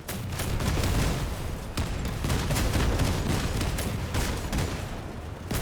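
Multiple rocket system volleys firing in the vehicle combat game Crossout: dense, continuous booming bursts that overlap for several seconds, loud and close, with no talk over them.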